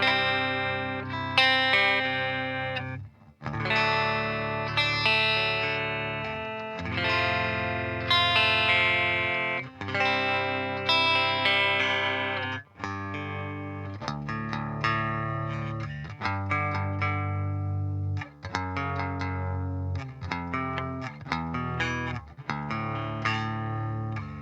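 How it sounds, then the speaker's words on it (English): A clean, dry electric guitar through an Ugritone Ampenstein Dual Retkifier amp plugin, reverb off, plays chords and short melodic runs, steady and continuous, with no voices. "And then we've just got a pure clean without the reverb on."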